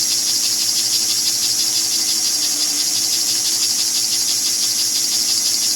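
A 1949 #322 model steam engine's small motor whirs continuously at close range, a steady high buzzing drone with faint vibration whose speed rises only slightly, no voices.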